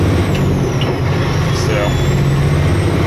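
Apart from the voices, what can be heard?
truck with air brakes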